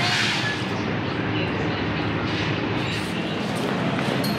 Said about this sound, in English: There's a tram there.